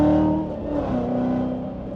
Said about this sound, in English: he says that he hears more supercharger whine, and so do I